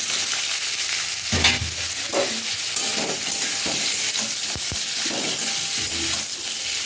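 Cut potatoes are tipped into hot oil already frying nigella seeds and green chili. A loud crackling sizzle follows, with scraping stirs and a few sharp knocks of a utensil against the pan.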